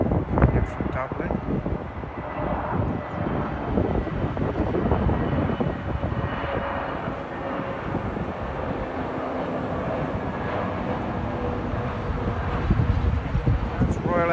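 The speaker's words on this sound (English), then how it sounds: "Aer Lingus, the A320neo, coming in from Dublin." An Aer Lingus Airbus A320neo arriving from Dublin, a broad steady jet roar rising and falling over about fourteen seconds, heard from the ground at moderate distance.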